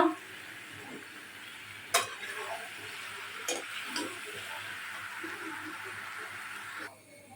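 Masala sautéing in a pan gives a steady sizzle with stirring scrapes, broken by a couple of sharp clinks and splashy bursts as water goes in; a faint voice sits in the background.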